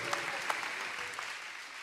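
A television studio audience applauds a guest being welcomed onto a talk show, a short burst of dense clapping with a few sharper claps standing out near the start, fading slightly toward the end.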